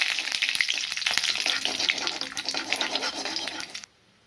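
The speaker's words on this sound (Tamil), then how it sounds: "இது நல்லா பொரியட்டும்" Curry leaves and chana dal frying in hot oil, a steady crackling sizzle with sharp pops that runs close and loud for about four seconds, then cuts off abruptly.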